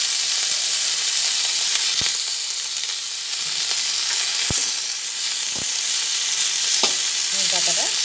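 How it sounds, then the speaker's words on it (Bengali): Washed neem leaves frying in oil with vegetables: a steady close sizzle and hiss throughout, punctuated by a few sharp clicks of a spatula against the pan. "তেল দিয়ে যে নিম পাতাটা রেখেছি ভালোভাবে ধুয়ে সেই নিম পাতাটা এর ভেতরে দিয়ে ভেজে নেব"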